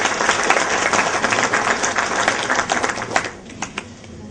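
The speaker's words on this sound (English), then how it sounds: "Let's give a big hand of applause for the great efforts of those 9 companies." A crowd at an awards ceremony claps steadily in dense, continuous applause that thins out toward the end, with no one speaking over it.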